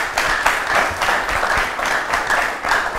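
An audience at a 2019 election debate program claps steadily for about three seconds, a dense, fairly loud patter of many hands without pause.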